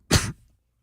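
A radio host lets out a single sharp, close cough in a studio, followed by silence.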